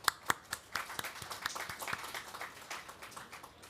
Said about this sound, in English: Please join me in giving a round of applause for our respected minister for his passionate